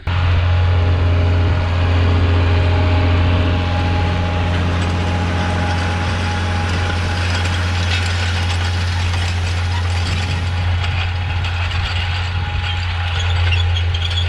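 International tractor ploughing a paddock, a steady loud diesel drone with a strong low hum and rattling mechanical clatter, continuous and close throughout with no talk.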